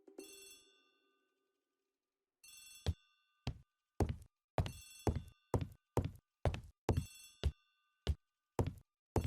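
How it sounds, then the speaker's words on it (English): Old-fashioned telephone bell ringing in a hallway in the video game Agatha Christie: The ABC Murders, a long first ring and then a rapid series of sharp, loud bell bursts, alone with no voices. "The telephone in the hall is ringing."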